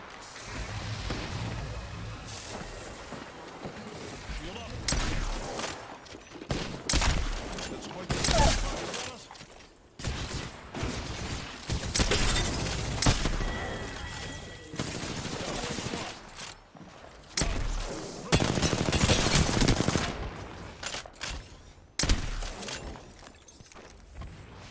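Gunfire in Apex Legends while playing Gibraltar, mixing hip fire and aimed-down-sights shooting: repeated loud bursts of rapid shots broken by short pauses, with someone talking underneath at times.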